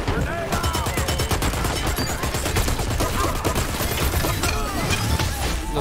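Sustained automatic gunfire in the shooter game Dirty Bomb, loud and continuous, with overlapping rapid shots and bursts layered under music from start to finish.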